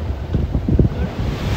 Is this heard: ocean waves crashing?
yes